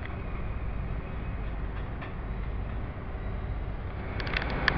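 Train at Plymouth station, a steady low rumble and engine drone as it pulls away, continuous and fairly close with faint clicks near the end and no talk.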